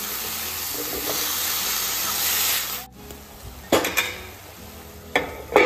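Greens dropped into hot oil in a wok with garlic, ginger and green chilli give a loud, even sizzle for about three seconds, then it cuts off, followed by a few scrapes and clanks of utensils against the pan.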